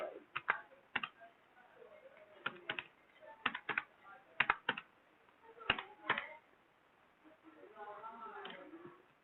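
Computer keyboard typing as ID details are entered, quick bursts of sharp key clicks separated by pauses, with someone talking quietly near the end.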